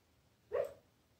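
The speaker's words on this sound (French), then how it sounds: "Je suis désolée si vous entendez des bruits bizarres, il y a un de mes chiens qui rêve." A sleeping dog lets out a single short whimpering yip as it dreams, fairly close but soft, in an otherwise quiet indoor room.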